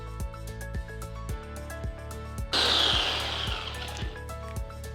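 Electric blender grinding ginger and spices into a paste, starting abruptly midway with a loud whirring roar over a rhythmic background beat of music.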